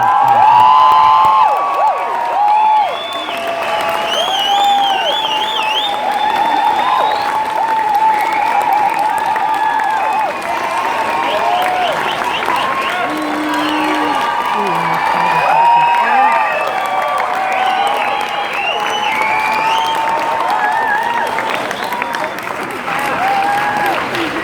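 Concert crowd at the Amsterdamse Bos open-air theater applauding, cheering and whooping for a performer, a loud sustained wash of clapping with scattered shouts and whistles throughout.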